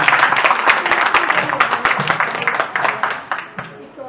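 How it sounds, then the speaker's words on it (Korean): An audience at an international seminar marking the 100th anniversary of the March 1st Movement applauds a third-session panel, with dense, loud clapping that holds steady and tapers off near the end. "박수로서 3세션 팬분들을 맞아주시기 바랍니다."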